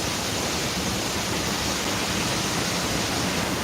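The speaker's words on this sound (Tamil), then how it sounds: "பாருங்க அருவி கொட்டிக்கிட்டு இருக்கு" Athirappilly waterfall in Kerala roars steadily, a dense, unbroken rush of pouring water filling the whole clip at constant loudness.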